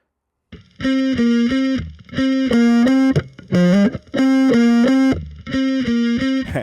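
Distorted electric bass played through a modelled distortion pedal in Helix Native, riffing in several phrases of sustained, harmonically rich notes separated by short gaps, loud and close with no talk.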